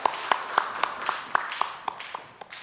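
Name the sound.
church congregation applauding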